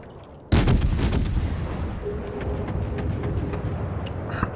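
A heavy naval gun salvo fires at the Iron Duke battleship in World of Warships: one sudden loud boom, then a long rumbling roll of follow-up blasts and echoing reverberation, no voices.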